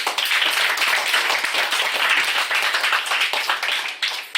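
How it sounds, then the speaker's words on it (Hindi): An audience at a Glo Herbal Mart boot camp event in Manali claps loudly and steadily throughout, a dense wash of many hands without any speech. "ग्लो हर्बल मार्ट के लिए एक बार जोरदार तालियां हो जाए"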